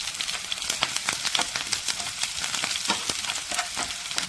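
Mustard seeds, chopped shallots, green chilies, dried red chilies and curry leaves frying in a spoonful of hot oil, a dense, loud, continuous sizzle with rapid crackling pops throughout.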